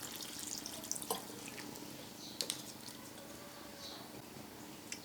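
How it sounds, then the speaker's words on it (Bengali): Water is poured into a cooking pot of chicken and bottle gourd curry, a faint, soft trickle and patter with a few scattered drips close by. "আমি আরেকটু জল দেবো।"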